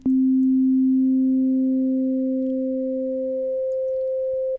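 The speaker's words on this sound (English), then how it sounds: "we have our sine wave, and I'm going to increase the ring modulation" A pure sine tone from a Native Instruments Massive synthesizer with ring modulation raised, one steady low tone that shifts up to a doubled, higher octave tone and holds, loud and clean.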